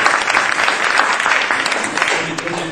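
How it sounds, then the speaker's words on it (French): A crowd claps steadily and fairly loudly, a dense wash of applause with no pauses. "applaudissez-le aussi."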